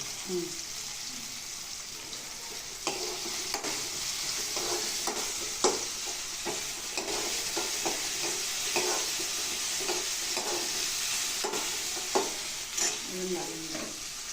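Onion and tomato fry in a pan with a steady loud sizzle throughout, while a spoon scrapes and stirs in frequent close clicks and knocks.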